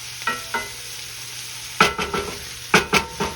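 Onions, peppers and a pork chop sauté in a cast iron skillet, with a soft steady sizzle under a few sharp scrapes and clanks of stirring, close up and with no talk.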